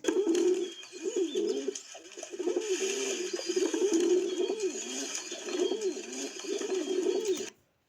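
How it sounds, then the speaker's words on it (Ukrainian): Steady, repeated low pigeon coos roll on close by with barely a pause, fading out abruptly at the end. "Ця пташечка називається голуб."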